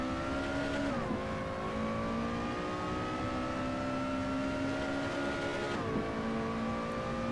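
A Lotus Exige 240R Stage 3 engine in the Assetto Corsa racing game, a steady droning hum held at high revs with two brief dips in pitch as gears shift, continuous and close with no voices.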